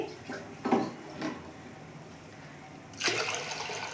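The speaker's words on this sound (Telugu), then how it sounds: "నేను వాటర్ వేసుకున్నాను ఒక గ్లాస్ వేస్తున్నానండి" Water from a glass is poured onto washed lentils being readied for tomato dal, a short splashing pour near the end after a few soft kitchen knocks.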